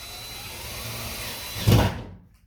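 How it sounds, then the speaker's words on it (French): A screw driven into plasterboard with a power screwdriver, a low whirring hum that swells briefly into a louder grinding burst near the end, then stops abruptly. "là quand je vais visser, je vais me mettre là plutôt, quand je vais visser"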